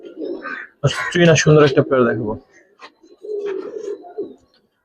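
Giribaz pigeons soft-cooing in a loft, low murmuring coos at the start and again near the end, with someone talking loudly in between.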